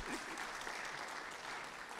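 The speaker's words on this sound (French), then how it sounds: "Est-ce qu'on peut l'applaudir?" A church congregation gives a short burst of applause, dense and steady, filling the whole moment without anyone speaking over it.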